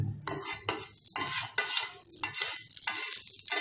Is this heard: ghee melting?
yes